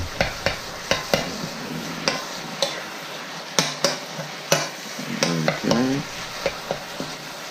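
Egg roll in a bowl ingredients are stirred in a hot wok, a steady sizzle under repeated sharp scrapes and clacks of the utensil against the metal, close and fairly loud.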